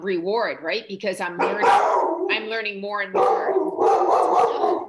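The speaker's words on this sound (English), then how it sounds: "That's my dog." A dog barks and yips repeatedly close by, overlapping a woman's ongoing speech, with several sharp high-pitched barks mixed through the talking.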